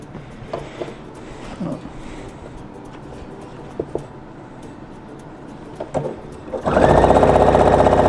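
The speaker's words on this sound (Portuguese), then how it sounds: "Vou lá pra máquina de novo. Vou passar uma costura de fora a fora." A sewing machine stitches a cotton dish towel, beginning with quiet handling and rustling of fabric before the motor starts near the end and runs in a loud, continuous whirring burst.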